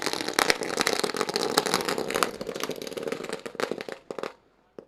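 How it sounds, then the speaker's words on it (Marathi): Firecrackers crackle and pop in rapid bursts at the opening of a kabaddi tournament, a dense outdoor barrage that thins out and fades near the end. "आज फटाक्यांच्या आतषबाजीत मात्र आज या स्पर्धेला आपण सुरुवात करतोय."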